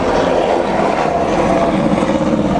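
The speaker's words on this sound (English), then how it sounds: "And you can hear the helicopters all around" Helicopters fly around over a flooded neighborhood in Levittown, Toa Baja, Puerto Rico, after Hurricane Maria: a loud, continuous rotor and engine drone with steady wind rumble, no talk.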